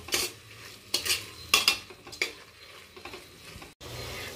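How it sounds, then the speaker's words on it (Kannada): A spoon scrapes and stirs thick mushroom biryani masala in a cooking pot, with uneven scraping strokes over a soft, steady sizzle and no voices. "ಇದು ಹೀಗೆ ಬ್ಲೆಂಡ್ ಮಾಡ್ತಾ ಇರೋಣ ಒಂದು 5 to 10 ಮಿನಿಟ್ಸ್."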